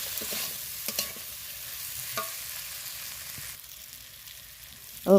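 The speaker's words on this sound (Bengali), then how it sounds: "আদা রসুন আলুর সাথে ভালো করে আমি কষাবো" Ginger, garlic and potato sizzle in hot oil with fish curry masala while being stirred, a steady close frying hiss broken by a few scraping clicks of the spoon against the pan.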